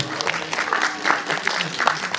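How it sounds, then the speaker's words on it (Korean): An audience at a film premiere stage greeting claps in a short, dense burst, steady and close, with a voice faintly under it. "박수 부탁드립니다"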